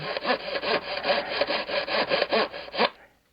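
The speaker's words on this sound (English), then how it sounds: "sanding next to your sheeting with 80 grit" Wood being hand-sanded with 80 grit sandpaper on a model aircraft wing while fitting landing gear blocks, a quick run of about a dozen rhythmic rasping back-and-forth strokes, close and loud, stopping abruptly.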